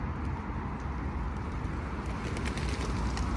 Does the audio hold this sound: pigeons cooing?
yes